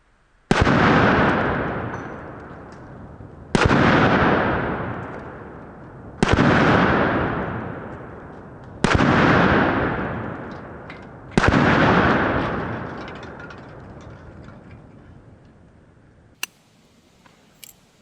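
An IWI Tavor X95 rifle fires five loud, sharp shots at a Firebird target, spaced roughly every two to three seconds, each with a long echoing decay, followed by quieter clicks and a faint thump.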